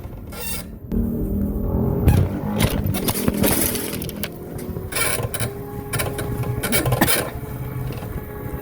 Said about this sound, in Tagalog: Ang ingay naman itong bike.